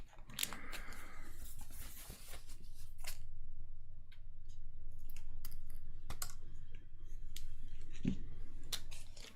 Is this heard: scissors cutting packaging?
yes